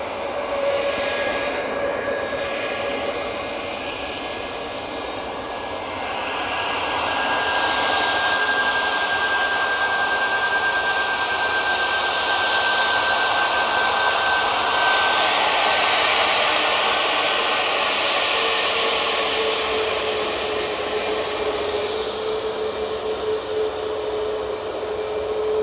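A Ryanair jet airliner taking off for Rome from Manchester Airport, its loud roaring engine whine building and holding with steady broadband rush and tonal whistles, close and sustained with no talk.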